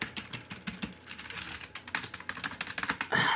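Typing on the keyboard of a new Windows 7 Dell PC: rapid, irregular clicking keystrokes, close and crisp, in uneven bursts with short pauses and no speech.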